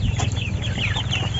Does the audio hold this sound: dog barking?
no